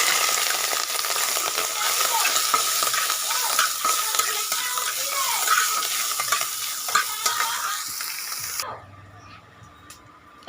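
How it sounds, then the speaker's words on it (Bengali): Freshwater snails tipped into hot oil tempered with whole spices, a loud continuous sizzle and stirring for about eight seconds that drops away abruptly near the end, with no talk. "ফোড়ন ফুটে গেছে, এবারে গুগলিগুলো ঢেলে দিচ্ছি।"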